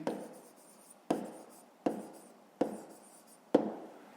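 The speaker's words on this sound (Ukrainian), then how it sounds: "Записуємо в дужках що центнерів." Handwriting in a math exercise book, with pen strokes in short scratchy bursts roughly every second, each starting sharply and trailing off, close and fairly quiet with no talking.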